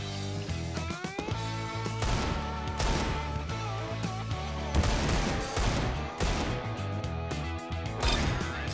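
Rapid Desert Eagle pistol shots from Counter-Strike crack in quick repeated bursts, loud and close, mixed with sharp clanks, impacts and other game noise, with no talk over them.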